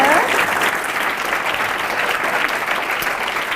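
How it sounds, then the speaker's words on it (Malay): Thunderous applause from a large audience at a motivational religious lecture, a dense steady roar of clapping that fills the whole stretch without a break. "Boleh tak Banin dan Banat berikan tepukan gemuruh kepada Prof kita?"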